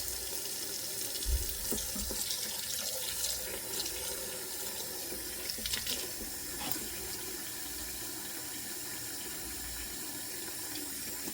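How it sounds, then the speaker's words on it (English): Tap water runs steadily into a pot to cover watermelon rind pickles, a continuous close splashing fill with a few brief clunks near the start and no talking. "We're going to go ahead and cover them with water."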